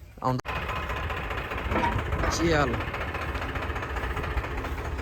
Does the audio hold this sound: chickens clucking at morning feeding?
no